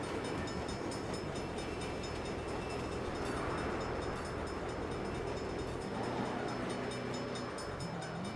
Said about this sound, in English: Hell of a time for a train.